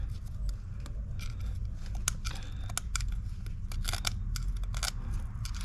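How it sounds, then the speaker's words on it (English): A hand scraper rasps in short, repeated scratchy strokes against carbon buildup on an engine intake valve, faint and close over a low background hum. "I'm going to use this to scrape the top of the valve because the brush isn't really getting it."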